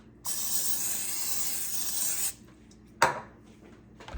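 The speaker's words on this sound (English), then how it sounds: "Just spray this with oil." Cooking oil sprayed onto food in a home kitchen: one steady hiss lasting about two seconds, close and fairly loud, followed by a short clatter and faint handling noises.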